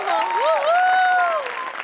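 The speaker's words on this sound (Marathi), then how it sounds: "त्याच्यासाठी खूप टाळ्या" A studio audience applauds on a Marathi comedy show while a loud, drawn-out cheering voice rises and falls over the clapping for most of the short stretch.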